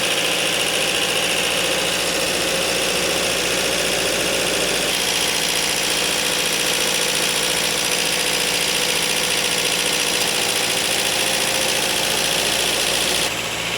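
A Mazda 2 Skyactiv diesel with 191,998 km on it idles, giving a loud, steady engine drone with a constant vibrating rumble that runs unbroken throughout, shifting slightly in tone partway through.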